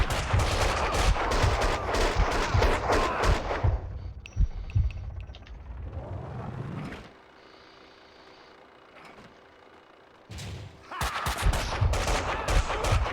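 Gunfire from the Max Payne 2 video game: rapid bursts of shots, loud and dense at the start and again at the end, with a quieter lull between them.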